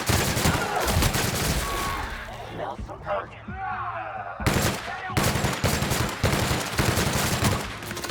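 Weapon gunfire in the video game Outer Worlds, bursts of loud shots packed together at close range with short gaps, heard under steady talking from a player.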